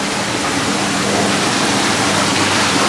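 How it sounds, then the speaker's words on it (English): Water pours through a fish pond filter in a steady, loud, unbroken rushing splash, like a small waterfall, with no talking. "you can see the water running to the corner."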